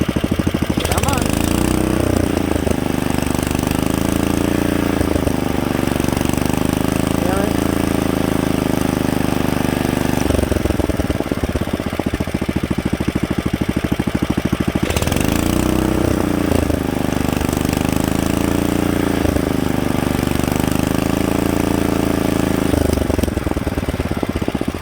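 A rebuilt Kohler K91 single-cylinder small engine runs steadily at fast idle, a loud, continuous close-up drone with a slight rising and falling surge from governor adjustment. No one speaks.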